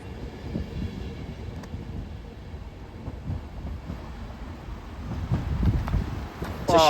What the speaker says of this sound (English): off goes 39137 for Manchester Piccadilly